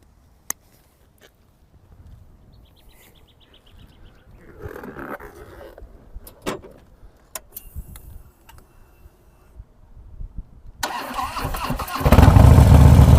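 A motorcycle engine starts and idles softly at first, then the throttle is raised and the engine note swells loudly near the end, on a sunny road with light breeze.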